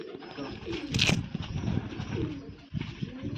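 Pigeons coo softly close by, low throaty calls repeating over a steady background, with one brief sharper noise partway through.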